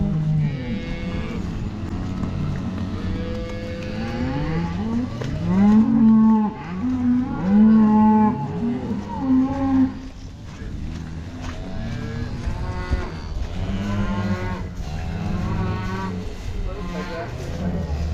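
Farm cattle moo repeatedly as the herd runs, a string of drawn-out bellows mixed with constant engine-like rumble and people talking nearby.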